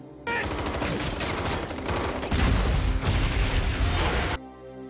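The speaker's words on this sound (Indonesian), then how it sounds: "Ternyata, markas rahasia CIA ini diserang kelompok bersenjata dalam jumlah besar. Baku tembak pun terjadi." Loud, continuous gunfire from a film gunfight at a secret CIA base under attack by a large armed group, with dense rapid bursts and heavy booms throughout that swell louder in the second half before cutting off abruptly.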